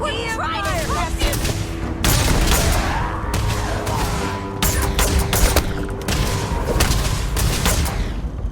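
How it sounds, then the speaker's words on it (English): Video game gunfire aimed at the player rattles in dense, repeated bursts over a steady din of loud action sounds, with a voice briefly heard among the shots. "Please stop shooting me."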